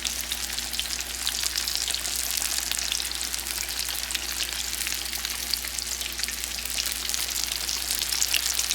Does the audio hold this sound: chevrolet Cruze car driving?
no